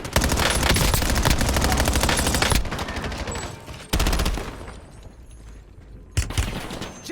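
Call of Duty: Warzone gunfire: a dense, loud burst of rapid automatic fire runs for several seconds, then cuts out, followed by another heavy burst and a final short volley, with game effects under it.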